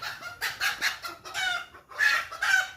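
A hen clucks loudly and repeatedly nearby after laying an egg, in bursts of rising cackles separated by short pauses.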